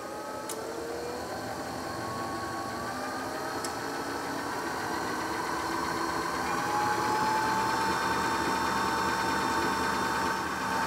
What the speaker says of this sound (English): Notice that I'm running the motor at 30 volts at this moment.